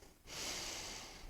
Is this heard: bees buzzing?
no